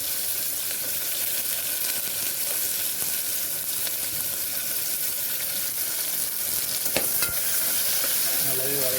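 Onions sautéing in hot oil with whole spices for a pea kurma, a steady loud sizzle and crackle filling the whole stretch, with scraping stirs and a brief clatter toward the end.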